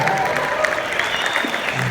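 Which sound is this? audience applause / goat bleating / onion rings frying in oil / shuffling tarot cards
audience applause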